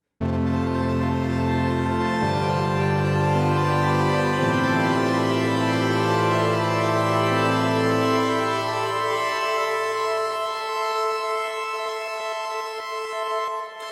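Sonicware Texture Lab granular effects processor fed by a synth, with reverb turned up and grains pitched up two octaves: a dense, shimmering sustained wash with shifting low chords underneath that thin out and fade toward the end, no voice.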